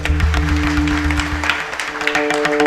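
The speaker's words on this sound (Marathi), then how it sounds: "यांच्यासाठी टाळी वाजवा, जोरदार टाळी वाजवा" An audience at a kirtan claps in a dense, lively burst over a sustained harmonium-like drone with faint rhythmic percussion, the clapping steady and fairly close throughout.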